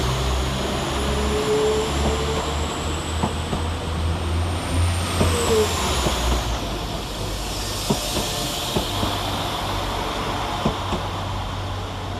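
Class 195 diesel units 195120 and 195109 pull away from a station platform, a steady low engine drone with rising hiss and rail noise, fairly close and continuous without talk.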